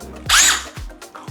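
Power drill boring a hole into a Bermuda stone wall, heard in short loud bursts of whirring grind separated by brief pauses, close up and with no talking.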